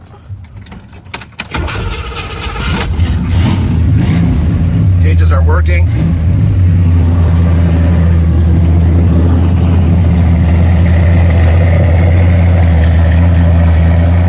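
A 1966 Chevy Chevelle SS with a blueprint motor cranks over after a jangle of keys, catches and settles into a loud, steady rumbling idle close by, with a brief rev early on and a voice speaking over it.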